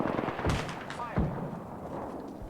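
Gunfire in the video game Apex Legends comes as a few sharp, punchy shots in quick bursts, mixed with voice chatter.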